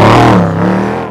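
A Ford Raptor with a swapped 7.3 V8 and a Borla muffler and tip revs loudly close by, a deep throaty roar that swells briefly and then eases off.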